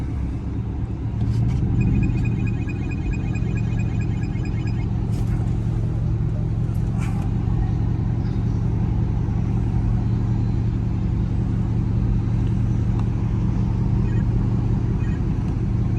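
A loud catless Chrysler 300C exhaust rumbles and echoes through downtown Chicago streets at night, a constant deep drone with some revving, close and dominant throughout.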